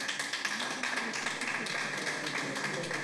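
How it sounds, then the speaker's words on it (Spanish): Applause at a press conference presenting a charity gala in Marbella, a steady burst of many hands clapping, close and even across three seconds with no break. "Un aplauso"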